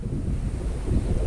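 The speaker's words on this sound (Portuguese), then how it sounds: "Bastante vento" Strong wind buffeting the microphone on a riverbank during winter catfish fishing, a steady low roar with no talk.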